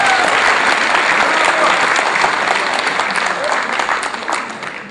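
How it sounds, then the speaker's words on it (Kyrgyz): Loud, dense applause from a concert audience at a gala concert, sustained clapping throughout that eases slightly toward the end. "дагы бир жолу дүркүрөтө кол чаап коелу"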